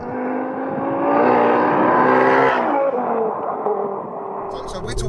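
A 689bhp front-wheel-drive Ford Focus RS accelerates hard in first gear on a soaking wet road, its engine note rising in a loud strained roar before easing off, heard from inside the car.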